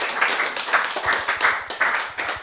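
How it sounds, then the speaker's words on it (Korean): A church audience claps in a quick rhythmic pattern of sharp, evenly spaced hand claps, fairly close and lively, with no voices over it. "박수."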